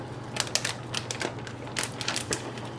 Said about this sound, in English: Need to cut up some of my chives